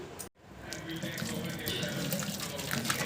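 Water pours and splashes steadily into a strainer as it drains from cooked sago, after a brief pause, close and continuous.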